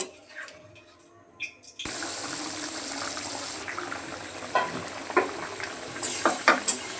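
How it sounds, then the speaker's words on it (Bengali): Fish curry broth with potato and taro for koi fish boils in a pan, giving a steady bubbling hiss that starts abruptly after a quiet opening, with a few sharper clinks and pops near the end. "ঝোল ফুটে গেছে"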